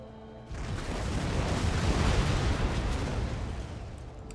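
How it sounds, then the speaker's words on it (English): Rockets firing in the strategy game Empire: Total War, a sudden onset of dense roaring, crackling bursts that swell and hold as a continuous rumbling barrage. "The rockets are firing."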